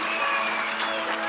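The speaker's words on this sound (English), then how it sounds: "Your cheering section is awesome." Audience at the St. Thomas Day 2025 award ceremony cheering and applauding, a dense steady wash of clapping and whoops that stays loud and continuous throughout.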